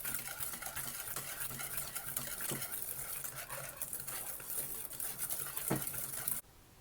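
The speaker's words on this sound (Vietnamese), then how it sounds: "Mình trộn bột bắp này cho nó tan đều với trứng" A utensil stirs cornstarch into an egg mixture in a bowl, a steady close scraping swish with a few soft clinks against the side, stopping abruptly near the end.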